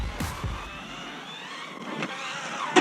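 Traxxas Hoss RC car accelerating hard on throttle, a short whining motor burst at the start that fades as it pulls away, with a sharp knock near the end.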